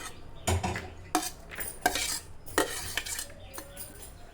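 Spoon and bowl clatter as chopped onion and green chili are added to mashed boiled potatoes: a string of sharp metallic clinks and scrapes in uneven bursts, close by, with no one talking.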